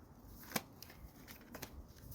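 Tarot cards are shuffled and drawn in a quiet room, giving a few sharp, soft flicks and snaps of card stock, scattered and close, with faint background hush.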